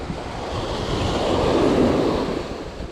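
Steady wind rushing and buffeting over a microphone outdoors while shore fishing, with a broad noisy roar that swells slightly in the middle and continues throughout.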